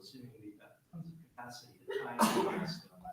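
A single sharp sneeze bursts out near the middle of a public school board meeting, loud and brief against quieter speech from a speaker talking before and around it.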